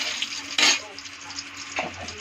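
A chilli and bay leaf sizzling in hot oil in a kadai, a close steady fry hiss with a short loud burst of spattering and a brief stir.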